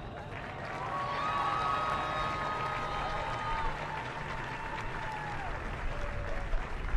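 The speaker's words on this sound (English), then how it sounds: "Let's have a round of applause for them." An audience at a 2019 band festival applauds senior performers with steady, broad clapping and some cheering, continuous throughout while a voice carries over it.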